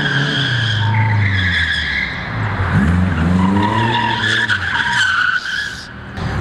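An original Chevrolet Chevette drifting, its tires squealing and skidding loudly in long wavering tones over the engine's rising and falling revs, close and continuous.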